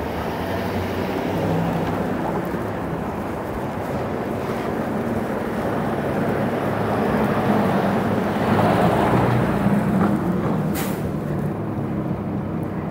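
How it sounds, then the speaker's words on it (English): Strong wind blows on a residential street and roars across the microphone in a steady, loud rush with slow swells, with no voices. "And the wind picked up."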